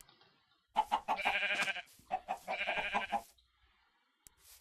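Sheep bleating in the video game Minecraft, two long wavering bleats in a row, close and clear, followed by near silence.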